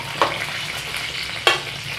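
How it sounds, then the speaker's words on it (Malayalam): Salted eggplant slices frying in a pan for baingan masala, giving a steady close sizzle with two sharp spluttering pops, one early and one past the middle. "ഉപ്പിട്ടതുകൊണ്ട് ചെറുതായിട്ടിത് പൊട്ടിത്തെറിക്കും"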